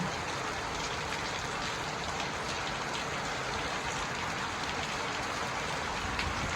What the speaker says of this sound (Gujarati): હવે સાચું કા વરસાદ આવી ગયો.